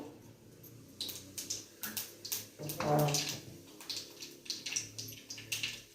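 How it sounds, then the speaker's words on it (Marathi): Mustard seeds sputtering and popping in hot oil for a beetroot dish, a steady crackle of small pops and sizzles at close range with no talking. "हे बघा मोहरी तळतळते तेल गरम झालंय जिरं टाकू"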